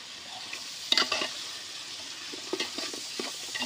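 Ginger garlic paste frying with chicken in a pot for village-style chicken biryani outdoors, giving soft sizzling with scattered stirring scrapes and light clinks, fairly faint and close, with no talk.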